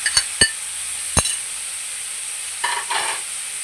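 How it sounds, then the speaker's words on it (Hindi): Chopped tomatoes go into frying curry masala in a pan: a few sharp clanks of a utensil, then a low sizzle under a steady frying hiss. "जो हमारे पास 1 किलो टमाटर काट के रखे, ये शामिल कर देंगे"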